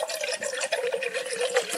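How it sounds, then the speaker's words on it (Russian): Unfiltered river water from the Uzh being poured into a pot at a camp breakfast, a brief bubbling, gurgling pour heard close up with no talking. "Так мы наливаем водичку."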